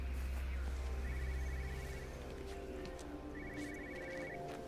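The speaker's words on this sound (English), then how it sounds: "What's that ringing?" A phone rings in the video game Everybody's Gone To The Rapture. Two bursts of thin trilling rings cut through a steady low ambient hum at moderate volume, with no talking.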